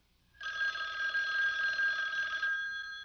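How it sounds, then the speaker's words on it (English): A telephone rings alone in a quiet room: one steady electronic ring, clear and moderately close, that holds for about two seconds and then stops. "The phone."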